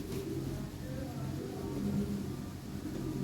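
European Lahori and Sirazi pigeons coo softly amid a steady, busy background hum, with low murmuring calls that continue through the whole stretch.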